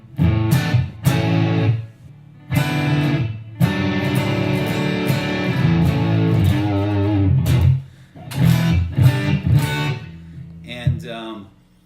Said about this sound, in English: Hopefully you can hear I got a guitar rig going